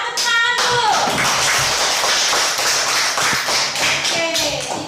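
Children in a classroom clap their hands together in a loud burst of quick, overlapping claps that runs throughout, with a young voice briefly audible at the start and end.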